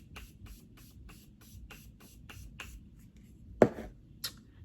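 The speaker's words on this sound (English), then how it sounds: "we're gonna spray the opposite side" A rapid series of soft makeup setting spray mists puffs out in steady rhythm, followed by a louder, longer spray burst and one last short spritz.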